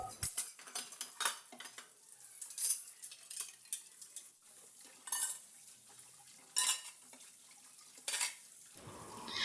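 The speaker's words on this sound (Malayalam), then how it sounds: "അപ്പോൾ അതൊക്കെ ഒന്ന് കഴുകി വെക്കണം. പാത്രം കൂടി എല്ലാം കഴുകി വെക്കണം." Cooking pots, plates and cutlery are washed in a home kitchen, giving irregular clinks, scrapes and clatters of metal and dishes along with faint splashing water, fairly quiet and close, with no talking.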